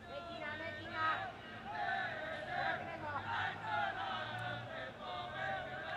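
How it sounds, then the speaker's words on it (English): Hougang United supporters cheer and chant from the stands during a Singapore Premier League match against Albirex Niigata, a distant, sustained crowd roar that swells and dips, with a commentator's voice talking over it. "You can hear them cheering their team on in the background."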